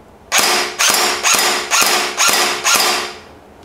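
Airsoft G&G AK47 rifle with blowback action firing semi-automatic, six loud evenly spaced mechanical shots, each a sharp snap with a ratcheting tail, close and without voices.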